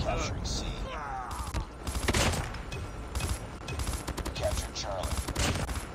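Rapid M16 rifle bursts in the mobile shooter Call of Duty Mobile, arriving as repeated sharp clusters of shots amid game effects, with a player talking over them.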